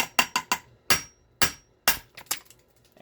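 Gunflint being knapped, with sharp hammer-like strikes on flint that each crack and ring briefly, arriving in irregular clusters close up and alone.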